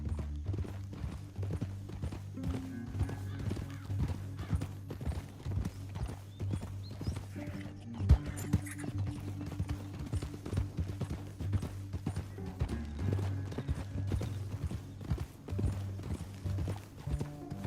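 Horses gallop across rough terrain in the video game Red Dead Redemption 2, a continuous, fast clip-clop of hooves with rumbling movement and occasional snorts, no talk heard.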